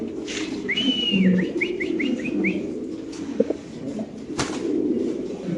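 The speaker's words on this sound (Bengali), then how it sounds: "মাশাআল্লাহ এখানে আছে আরেকটা কবুতর" Fancy show-quality pigeons on a large pigeon farm in Bangladesh give a short run of rising, repeated coos and whistly calls close by, over a low murmur of farm background and a single sharp knock.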